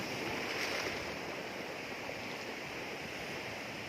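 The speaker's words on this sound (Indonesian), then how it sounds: "ombaknya gede." Big ocean waves roll in a steady, broadband wash of surf, continuous and fairly distant-sounding, with no talking over it.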